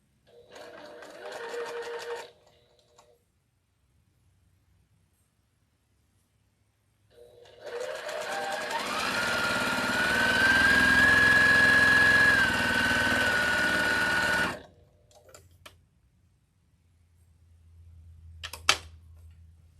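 A sewing machine stitches quilt block pieces in two runs, a short burst and then a longer steady whirring spell of several seconds, close and fairly loud, with quiet handling noises between and after.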